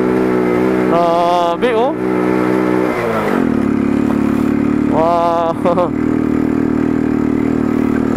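A motorcycle engine labors up a steep mountain road near Baao, its steady drone running the whole time while someone talks and exclaims over it.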